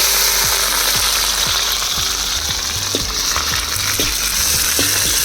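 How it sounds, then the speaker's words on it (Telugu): Onions and green chillies fry in hot oil in a kadai over a wood-fire stove while kadai chicken biryani is being made, giving a loud, steady sizzle with intermittent clinks and scrapes of stirring close by. "పచ్చిమిర్చి చూడండి మంచిగా ఫ్రై అయిపోయినాయి ఒక దెబ్బకి."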